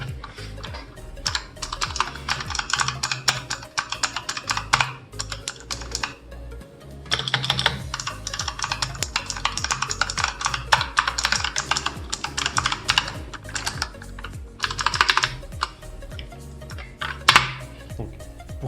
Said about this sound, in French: une séquence pour vous donner une idée du bruit que se dégage du clavier quand on l'utilise dans la vie de tous les jours